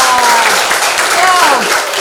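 Classroom applause for Tika and Riyad: a dense, loud wash of many hands clapping at once, briefly carrying faint voices beneath it.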